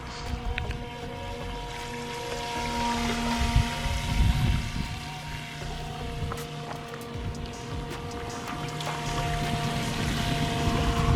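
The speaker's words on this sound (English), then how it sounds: "bring it by through the grass, past us full throttle" A Pro Boat Jet Jam RC jet boat running at full throttle on water near grass: a steady, high-pitched motor whine with shifting tones and spray noise, gradually growing louder toward the end.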